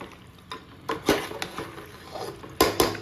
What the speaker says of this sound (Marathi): मिक्स वेल करून घेते सगळं